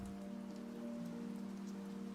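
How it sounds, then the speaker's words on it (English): Rain falling in Minecraft, a soft, even hiss of drops at low level, steady and unvarying, with faint tonal hum lines from game music beneath it and no talking. "Kind of want to make it rain as well."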